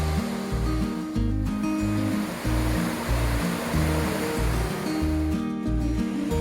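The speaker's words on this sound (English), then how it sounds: "made the Mouse Creek Falls before it turned dark" Mouse Creek Falls in the Great Smoky Mountains, a waterfall giving a loud, constant rushing roar close by, with steady low rumbling pulses underneath and no talk.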